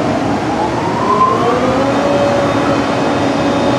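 A sawmill planer's bottom cutter head starts up from a 65 kilowatt drive, a loud, dense mechanical roar with a whine climbing in pitch as it spins up.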